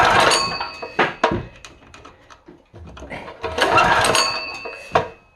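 A cheap import generator engine is pull-started in two rough attempts. Each pull brings a loud, sputtering burst that fades without the engine settling into a steady run.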